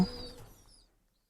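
A single soft coo from a racing pigeon, close and brief, fading into silence.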